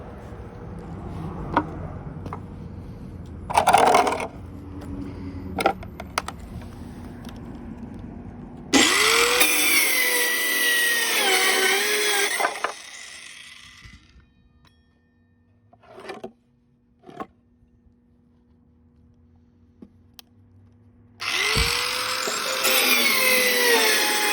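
A small SeeSii circular saw cuts through wood in two loud whining passes, the blade spinning up, biting and winding down, with quiet gaps and brief handling knocks between.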